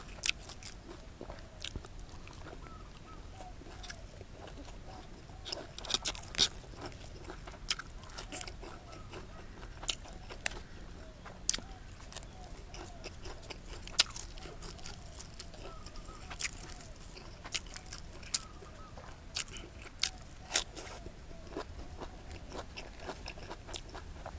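Someone bites and chews crunchy homestyle Thai food, catfish dip with fresh neem leaves, blanched vegetables and chili, with close, repeated crisp bites and chewing sounds throughout, faint roosters and birds in the background.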